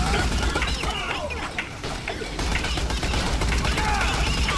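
Gunfire in Borderlands: The Pre-Sequel, dense continuous shooting and explosive crackle over a busy game soundscape, loud throughout with a brief dip midway.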